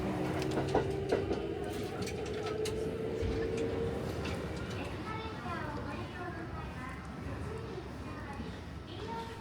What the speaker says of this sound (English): hopped on a very adorable train to Nara, famous for its wild deer